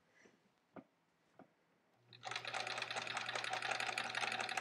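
A sewing machine runs steadily along the edge of quilt fabric during quilt-as-you-go piecing, starting after a few soft taps and then humming continuously and fairly loud to the end with no talking.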